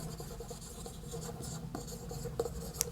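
Steady scratchy strokes of writing on a board during a physics lesson on the photoelectric effect and work function, with a few sharper taps near the end. No talking.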